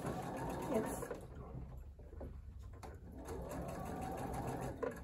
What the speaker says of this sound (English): if you sew it on the side of the square and not the side of the triangle